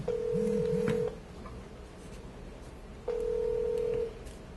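A telephone call is dialed and rings on the line. Brief keypad tones come first, then two long steady ringback tones about two seconds apart, clear over faint line hiss, with no talking.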